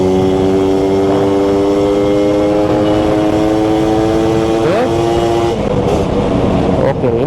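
A Suzuki Satria Hiu or Yamaha F1ZR two-stroke motorcycle engine revs loudly and close up, its pitch holding high and steady before dropping off and briefly rising again.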